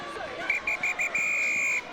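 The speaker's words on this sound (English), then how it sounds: "And with that, brings the final whistle." A referee's whistle sounds the end of a Celtic Challenge women's rugby match between Wolfhounds and Gwalia Lightning: four short shrill blasts then one long sustained blast, rising over a distant cheering crowd.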